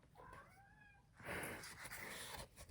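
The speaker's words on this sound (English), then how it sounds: "It's my cat." A pet cat meows nearby, first a drawn-out wavering call and then a louder, rougher yowl, with quiet room background between.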